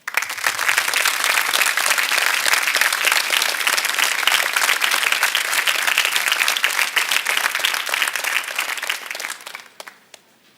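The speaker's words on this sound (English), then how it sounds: "I ask you to give them a round of applause" Graduation audience at a middle school ceremony gives a long, full round of applause for parents and teachers, dense and sustained clapping from a large crowd that fades out over the final second.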